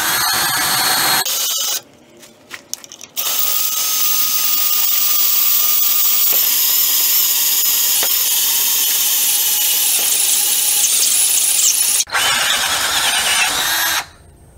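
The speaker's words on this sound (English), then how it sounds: "I gotta be able to hold on to this drill because these step bits are known to twist" A hand drill fitted with a step bit enlarges a hole in metal, a loud sustained high whine that runs for about ten seconds after a few short bursts, then cuts off before a final brief spin-up.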